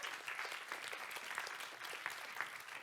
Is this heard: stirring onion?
no